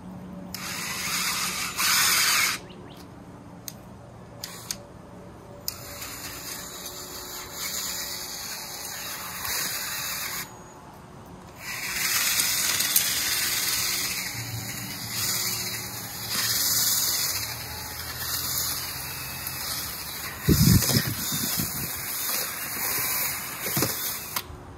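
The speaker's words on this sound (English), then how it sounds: "This is the part I hate about using an auger in the garden, is that it really flings dirt everywhere." A garden auger drills into compost-covered soil, giving an on-and-off power-tool whir in bursts broken by short pauses and a few scraping thuds near the end.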